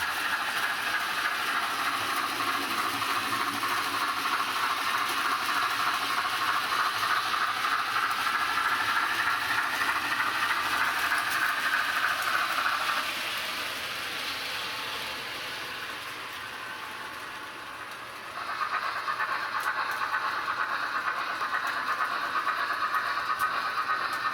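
A US locomotive-hauled train rumbles and hisses steadily, fading quieter for a few seconds before the hiss swells again as it slows to a halt at a red signal.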